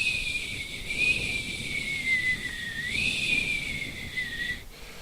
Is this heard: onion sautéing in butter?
no